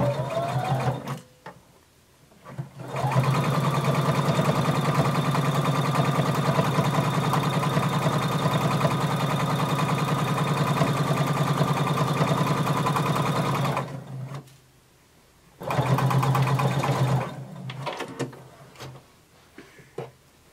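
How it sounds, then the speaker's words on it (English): A sewing machine stitches a garment inseam with a 5/8-inch seam allowance. A few short starts lead into a long, steady, close mechanical run of about eleven seconds, then a pause and another brief burst of stitching. "starting at the bottom, we're going to sew using 5/8 of an inch seam allowance all the way up"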